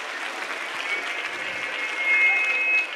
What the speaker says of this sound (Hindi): उनका भी स्वागत करेंगे एक बार जोरदार तालियों से